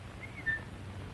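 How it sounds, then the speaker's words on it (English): A single short, thin whistle from a person rises briefly over a quiet room hum, faint and close, lasting only a moment with no talking. "just whistle. like this."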